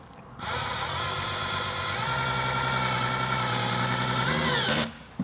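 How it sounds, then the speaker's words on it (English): An electric screwdriver set to its lowest torque driving a screw while a Vespa topcase is fitted, one continuous whirring motor run of about four seconds that deepens in pitch as it loads up, then stops abruptly, close and alone. "I set the torque on my electric screwdriver to the very lowest setting."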